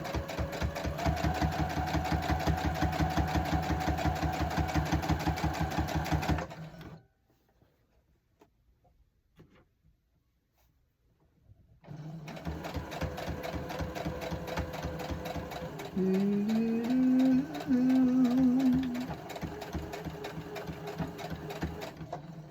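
A sewing machine stitches a quilt in a loud, fast, even hum, stops for a few seconds of near silence, then starts stitching again with a brief shift in pitch partway through.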